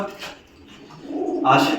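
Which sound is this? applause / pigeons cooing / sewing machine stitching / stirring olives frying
pigeons cooing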